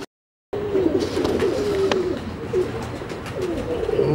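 A Daku pigeon coos in a low, drawn-out, wavering tone right up close, nearly continuous after a moment of silence, with no talking.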